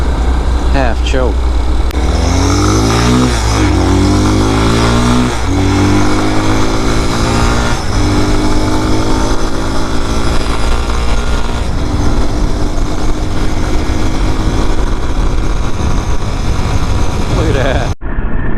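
A Vitacci Rav motorcycle engine runs loud and steady throughout while riding, rising in pitch through several gear changes with repeated revving climbs, then cuts off abruptly near the end.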